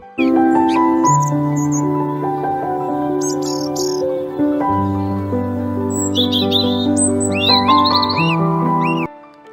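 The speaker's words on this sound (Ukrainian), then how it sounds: "давайте послухаємо, як різні перелітні птахи співають свої пісні весною" Birds chirp and trill in short bursts over sustained, gentle melodic music that plays continuously underneath.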